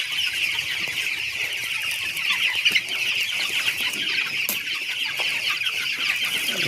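Broiler chickens cluck softly and intermittently over a constant high-pitched buzz of insects, with no one speaking.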